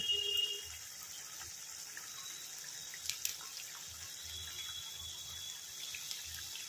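Coconut milk is poured into a simmering prawn curry, giving a brief liquid splash at the start that fades into a faint, quiet gurgle from the pot.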